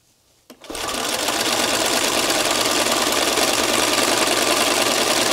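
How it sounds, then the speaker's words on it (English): A regular sewing machine stitches wonky outline stitching through fabric for a craft flower leaf, a steady close whirring that starts after a brief pause and runs unbroken to the end, with no talking. "This is just a regular sewing machine."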